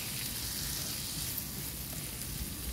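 Butter shrimp sizzling in a pan before Sprite is added, a steady, close, even frying hiss with faint crackles and no talking.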